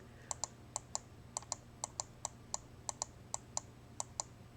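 Crisp mouse clicks come in quick pairs and singles, a dozen or so spaced irregularly over a quiet background hum.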